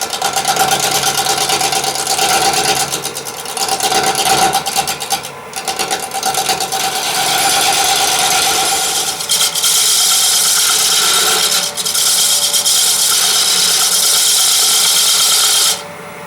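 A roughing gouge cuts a wooden log spinning on a lathe, making a loud continuous scraping and hissing with a steady motor hum, brief dips as the tool lifts, and sharper shaving noise later on.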